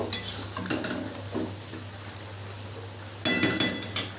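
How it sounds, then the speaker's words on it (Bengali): Vegetables and split peas stirred in a pan after water is added for a Malabar spinach stem dish, with scattered scraping and clinking of a utensil against the pan and a louder burst of stirring at the end. "জলটা দিয়ে খুব ভালো করে নেড়ে নেব"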